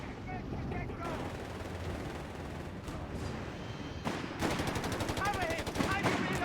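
Machine gun fire in the World War II strategy game Company of Heroes 3, with rapid crackling bursts that turn dense and rattling near the end over a steady rumbling battle backdrop, heard under ongoing talk.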